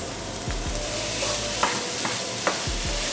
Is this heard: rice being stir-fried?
yes